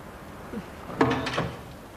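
A drawer slammed shut in a domestic interior, a single sharp wooden knock with a brief rattle, close and fairly loud against a quiet room.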